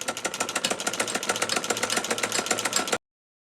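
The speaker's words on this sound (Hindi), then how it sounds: "रिलैक्स छोड़ के सिलाई लगानी है।" A sewing machine stitches baby-dress fabric in a fast, steady mechanical rattle of closely spaced needle strokes that runs without pause for about three seconds and then stops abruptly, with no talking.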